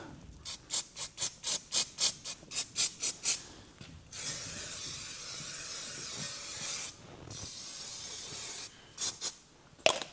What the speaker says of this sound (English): A little bit of brake cleaner.